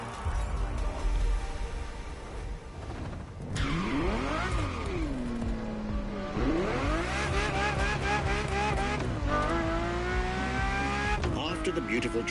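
A Ferrari Enzo engine in the racing game The Crew Motorfest revs hard, climbing and dropping through repeated gear shifts with brief tire squeal. The engine roars close and continuous throughout.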